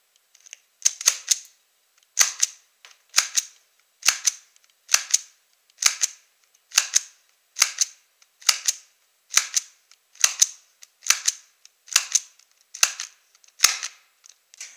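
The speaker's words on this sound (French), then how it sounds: "On va faire un petit test de tir à peu près à 10 mètres pour voir ce que ça donne." A Tokyo Marui Gindan Walther PPK/S airsoft pistol fires about sixteen sharp, close, dry snaps at a steady pace of roughly one per second, with silence between shots and no talk.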